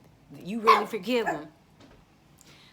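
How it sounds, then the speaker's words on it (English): A dog named Nunu barks and whines in a short, loud burst of a few yelps close by, mixed with someone talking, then the room falls quiet. "that's my dog Nunu"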